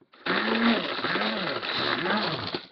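An electric grinder whirs loudly and steadily as it grinds incense pieces, its pitch dipping and rising in repeated pulses for a couple of seconds before cutting off.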